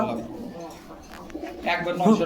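Soft pigeon cooing close by at a pigeon market, mixed with people talking and background chatter.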